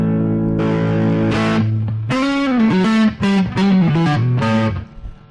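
A loud electric guitar played through a Boss GT-1000 with heavy distortion plays sustained chords and a bending, buzzy phrase, the tone thick and saturated.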